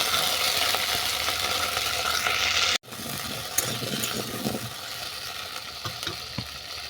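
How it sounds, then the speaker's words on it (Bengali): Jujubes (kul) fry in a pan for pickle with a continuous close hiss and sizzle, briefly cut off partway through and then resuming, softer, with light crackles. "কুলটাকে কিছুক্ষণ ভেজে নেব।"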